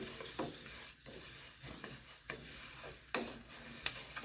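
Rice for Spanish rice cooks in a pan with a quiet, continuous sizzle, broken by several short scraping stirs at irregular intervals. No voices are heard.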